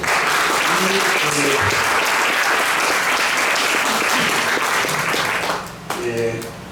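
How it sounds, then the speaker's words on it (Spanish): Audience applause at a book presentation for the novel La Piel del Murciélago, a dense sustained crowd of clapping that fades near the end as a voice begins. "También un aplauso para Diego."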